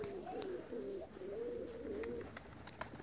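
Pigeons cooing nearby outdoors, a soft continuous run of low rolling coos lasting a few seconds, with faint background noise and a couple of brief higher chirps.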